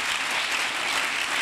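Brief burst of steady, dense applause from a church congregation during a French and Lingala worship service, close and even throughout with no talk over it.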